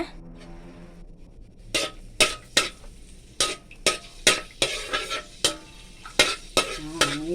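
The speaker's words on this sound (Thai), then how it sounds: "เพื่อเพิ่มความหอมของพริกก็จะใส่กระเทียมเจียวเข้าไป ก็จะใส่กระเทียมไปเจียว" Garlic frying in oil in a wok with a spatula knocking and scraping against the metal, sharp clacks in an irregular rhythm over a low sizzle, close and fairly loud.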